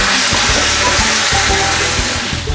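Fried tempe being stirred with palm sugar in a pan: loud, close sizzling with rhythmic scraping and thumping strokes of the utensil repeating every fraction of a second.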